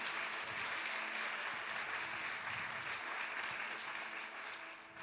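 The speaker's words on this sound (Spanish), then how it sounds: "Dale un aplauso al Señor" A church congregation claps for the Lord during a Spanish-language sermon, a broad, even roar of applause sustained throughout and easing slightly at the very end, heard at a moderate distance.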